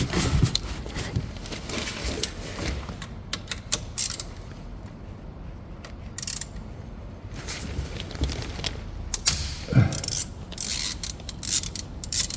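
A ratchet clicks repeatedly while loosening a 13 mm bolt on the thermostat housing of a Volkswagen T4. The metallic clicking and clattering stays close and fairly loud, with no talk.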